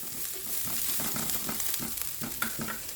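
Garlic sizzles and crackles steadily in hot cooking oil in a pan, with occasional stirring scrapes, a continuous close frying hiss.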